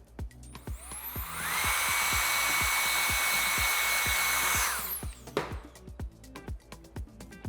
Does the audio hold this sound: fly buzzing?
no